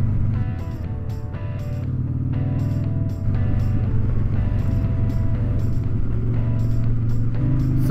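A Harley-Davidson Sportster 1250 is ridden on the road, its engine a loud, steady rumble that shifts pitch around the middle. Intermittent crackling deceleration pops sit over the drone, and no one speaks.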